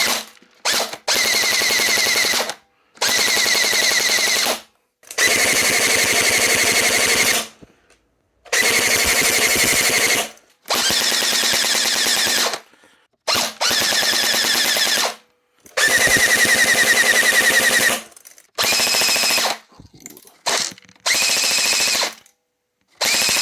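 A Perun P90 airsoft gun with a MOSFET fires full auto in a series of loud, sustained bursts, each lasting one to two seconds and separated by short silences.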